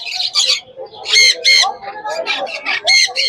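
Exotic pet birds for sale at the Serampore pet market call loudly and close by. Shrill squawks and screeches come in rapid, overlapping bursts, with quieter chirps between them.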